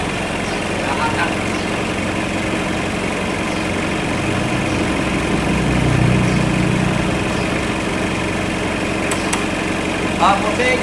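A car engine idles steadily at close range during repair work on a faulty alternator that is not charging, a continuous mechanical hum with people talking over it.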